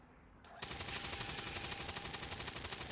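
Weapon fire in the tactical strategy game XCOM 2 starts abruptly after a brief quiet lead-in, then continues as a steady, rapid rattle of automatic shots at even volume.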